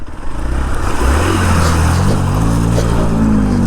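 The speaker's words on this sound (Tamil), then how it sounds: "இன்ஜின் ஃபுல்லாக நடுங்கிடுச்சு" A Hero Xpulse off-road motorcycle engine running loud and close, with a steady throbbing idle that climbs in pitch as the rider revs it.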